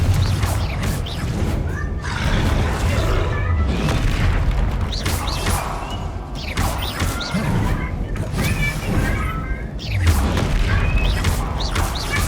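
Spell explosions and booming impacts from a combat scene in the Hogwarts Legacy video game, several loud bursts recurring every couple of seconds over dense continuous game noise.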